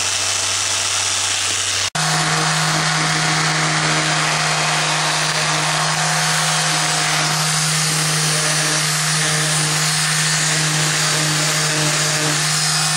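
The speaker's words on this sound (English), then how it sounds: "I'm just sanding up this end" A steady, loud powered sanding noise on gasket material runs continuously after a brief cut at the start, with a constant motor hum and gritty abrasive hiss.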